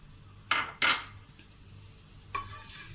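A metal degchi cooking pot is set back on a stove with two quick close clanks, then a quiet pause and a further scraping knock of metal on metal, with no talking.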